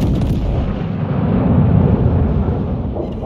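Battleship main guns fire in the naval video game World of Warships Legends, a loud, booming rumble of heavy artillery that rolls on continuously and fills the whole stretch.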